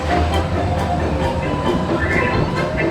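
A roller coaster train on the Incredicoaster at Disney California Adventure pulls away, a loud steady rumble and clatter of wheels on track that runs without a break, with faint crowd noise behind it.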